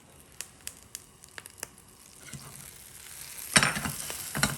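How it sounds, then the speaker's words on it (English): Bread toasts in butter in a pan, starting with a few scattered sharp pops and crackles before building into a louder, denser sizzle with bursts of spattering. "You go ahead and toast both sides."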